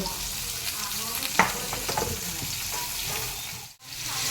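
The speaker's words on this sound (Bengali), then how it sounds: "প্রথমে তেল দিয়ে দিয়েছি তো এখন কলা আর আলু প্রথমে ভেজে নিব" Banana and potato pieces frying in oil, a steady close sizzle with stirring scrapes and a brief clatter, no talk.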